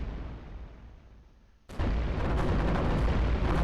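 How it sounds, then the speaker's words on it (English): Dense, continuous machine gun fire from the World War II strategy game iBomber Defense erupts abruptly after a softer rumbling lead-in, loud and sustained with rapid bursts to the end. "those machine guns can melt the half-tracks"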